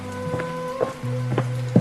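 Rain falls outside in a steady, soft wash of noise, heard under a few sustained musical tones.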